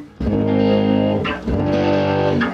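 A Legator Ghost GHFB7 electric guitar with high-output pickups, plugged straight into a Helix, rings out in loud, thick, muddy sustained chords, one long strum and then a second after a short break.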